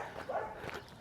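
Dogs at a shelter for abandoned dogs give a short yelp or whine, a brief mid-pitched cry rising over a steady background murmur, fairly close.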